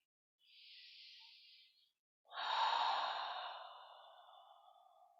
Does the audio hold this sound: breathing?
yes